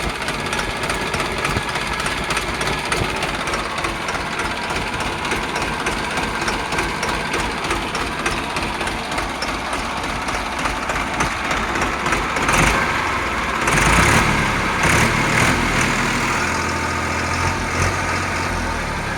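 A New Holland 3230 tractor engine idles steadily, a loud continuous diesel rumble nearby with a slight surge in the middle, no talk.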